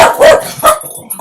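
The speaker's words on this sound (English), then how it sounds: "Sorry about the barking." A dog barks loudly and close by, two or three sharp woofs in quick succession, with no one talking.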